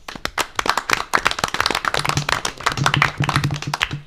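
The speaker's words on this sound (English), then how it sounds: "I'd just like to give them another round of applause for the hard work that they put into educating the children of our district." An audience at a school board meeting claps in a round of applause for teachers and staff, dense, uneven hand claps continuing steadily, fairly close.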